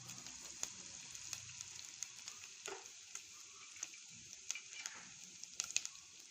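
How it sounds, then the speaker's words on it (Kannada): Fenugreek and other tempering spices splutter and crackle in hot oil for a breakfast dish, a steady sizzle with scattered sharp pops, close and alone. "ಇದೆಲ್ಲ ಸ್ವಲ್ಪ ಚಟಪಟ ಅಂತ ಸಿಡಿಲಿ."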